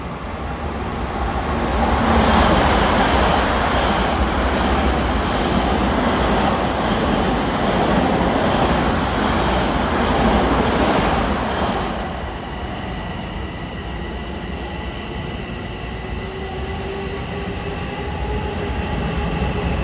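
A Ronkonkoma to Grand Central commuter train passes through Mineola station on a triple-track line during morning rush hour, a loud steady rumble of wheels and cars that eases after about twelve seconds into a softer drone with faint squealing tones.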